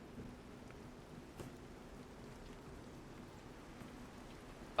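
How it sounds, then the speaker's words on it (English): Steady rain falls in a soft, continuous hiss with faint scattered drops and a low rumble underneath, fairly quiet and without any voices. "Until the only thing is the rain."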